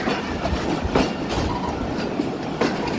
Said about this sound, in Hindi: बहुत ही ज़बरदस्त मशीन है GU20, 2200 हॉर्स पावर है।